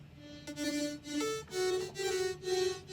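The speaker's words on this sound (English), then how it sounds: "Another Serum patch, and this one sounds like this." A Serum software synthesizer patch plays a short melodic phrase of pulsing, bright notes in a rhythmic pattern, clean and alone with no talking.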